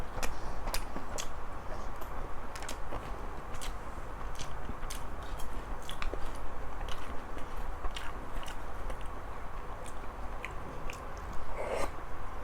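Someone chews shumai dumplings (khanom jeeb) close to the microphone, with repeated soft wet bites and small crunchy clicks in an uneven rhythm throughout.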